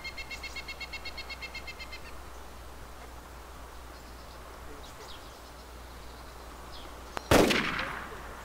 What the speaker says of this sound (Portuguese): Olha, tiro.